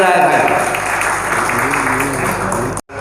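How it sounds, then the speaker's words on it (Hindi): Applause at a law careers seminar in Chhapra, a moderate patter of clapping in a hall with a voice speaking over it, ending in an abrupt cut. "एक बार जोरदार तालियां बजे लगे कि यहाँ पे कोई सेमिनार चल रहा है भाई।"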